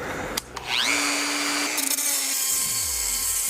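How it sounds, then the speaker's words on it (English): Angle grinder spinning up and cutting through a metal speaker lid bracket in a garage, a high whine rising then holding steady while the blade bites, fairly loud and close, winding down at the end. "I'm just going to fire up the grinder. I'm gonna go ahead and cut there"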